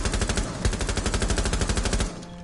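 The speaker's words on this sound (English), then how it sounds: "Oh, oh my god, they're just randomly shooting." Rapid automatic gunfire from the online tactical shooter Rainbow Six Siege, a dense sustained burst of evenly spaced shots that runs about two seconds and then cuts off, loud and close with no talk over it.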